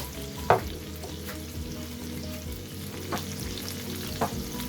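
White sauce with black pepper simmering in a pan on low heat gives a steady soft sizzle and bubbling, with a few light clinks of a spoon stirring through it.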